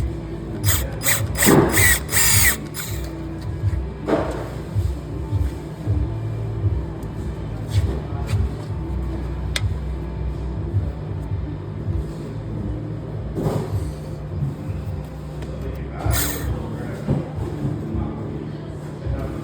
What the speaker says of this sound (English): Gonna drill 1/8 first.